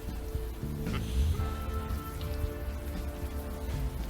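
Steady rain falls in the game Unavowed, a dense continuous patter with no voices, holding at an even level throughout the short stretch.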